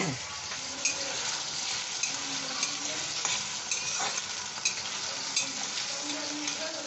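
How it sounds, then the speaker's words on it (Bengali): Potatoes frying in a pan with a sprinkle of salt, meant to go with ridge gourd, a constant close sizzle layered with brisk rhythmic stirring and occasional metal clicks. "আলুটা দিলাম, আলুটা দিয়ে ভেজে নেব"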